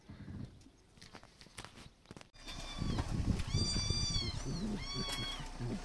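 Several cats meow close by, high thin kitten mews overlapping with a few louder adult cries from two mother cats, alongside shuffling and rustling.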